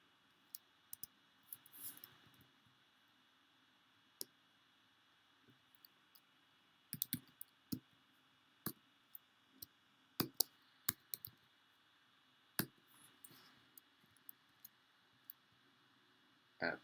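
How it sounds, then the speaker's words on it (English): Quiet, sparse clicks of computer keyboard typing, scattered single taps and short bursts over a faint background hum, no talking. "So I'm typing in my credentials."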